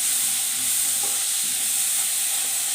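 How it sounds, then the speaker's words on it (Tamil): Tomatoes sizzle loudly in hot oil in a pan as they are sautéed for chicken biryani, a dense, continuous close-up frying hiss with no voices. "தக்காளி போட்டு தக்காளியும் நல்லா வதக்கிக்கோங்க."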